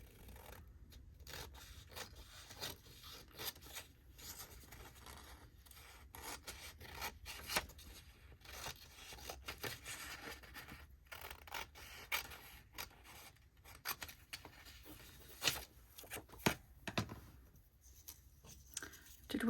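Scissors snipping a picture out of a paper yearbook page, close up and quiet, with a steady run of small rasping and scraping cuts and paper rustle.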